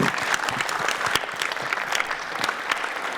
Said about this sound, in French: Merci beaucoup, Christiane, on peut l'applaudir.